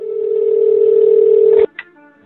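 A steady telephone tone sounds when dialing the phone number of Murray from Stranger Things, a loud continuous hum that cuts off abruptly, followed by a brief click.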